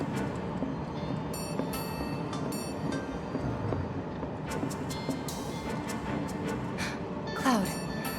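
Train carriage riding along rails in Final Fantasy VII Remake, a steady low rolling rumble with occasional clicks and a brief squeal near the end, continuous and fairly close, with no talk.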